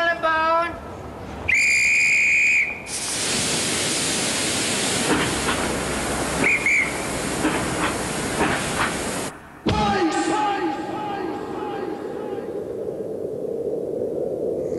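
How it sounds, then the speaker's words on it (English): A steam locomotive whistle shrieks in short blasts, then a long loud hiss of escaping steam cuts off abruptly, with voices talking near the end. "Tally-ho, Wibbly, there's trains to be caught."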